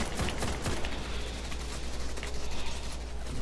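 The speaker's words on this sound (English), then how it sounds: "They're shooting like a freaking turret, man" Enemy gunfire crackles in Destiny, rapid clattering bursts of shots layered over a dense continuous rattle, sustained and busy throughout.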